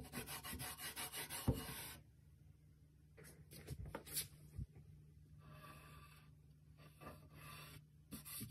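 A brush spreads a second coat of milk paint across a wooden Jacobean buffet, giving soft, continuous rubbing strokes close by, loudest in a rhythmic burst at the start and quieter, steadier swishing afterward.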